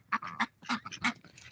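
Ancona ducks give a few sharp, nasal quacks in quick bursts nearby, fairly quiet and close, with no speech.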